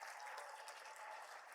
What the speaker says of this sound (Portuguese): Dê uma salva de palmas para eles